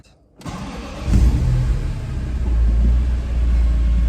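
A BMW E46 M3 with its stock exhaust cold starting: a quick crank, then the engine catches and settles into a deep, steady, fairly loud idle rumble, heard close and without talk.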